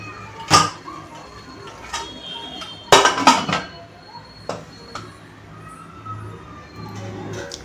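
A metal lid is set on a cooking pot of matar pulao, rice with peas, giving a few sharp close clinks and a short clatter over a steady low kitchen hum.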